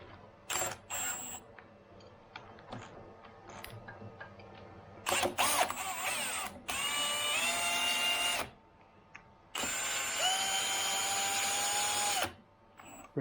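A power drill spins the axis of an Optimum MH28V mill during its CNC conversion, driving it through its full travel in two long whining bursts. Shorter mechanical clicks and knocks come first, and the setting is a quiet workshop.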